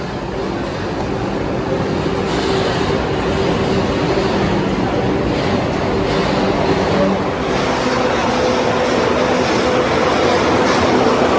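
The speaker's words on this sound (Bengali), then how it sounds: "দেখো ট্রেন ঢুকছে এখন।" Howrah–Puri Vande Bharat Express (22895) rolling into a station platform at Puri: a steady, loud rumble and hum of the train carrying on throughout, with no talk.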